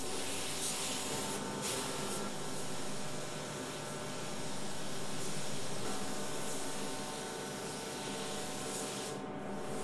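A spray gun lays a final wet paint coat on a custom car finish, giving a steady, soft airy hiss that runs without a break for about ten seconds, with no talking.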